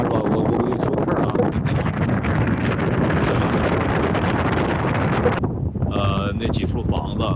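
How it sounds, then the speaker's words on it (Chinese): Strong outdoor wind buffets a phone microphone during a voice-call test, a dense roaring rumble that runs nearly throughout and ends with a brief electronic tone. "不过目前啊我们这块风比较大"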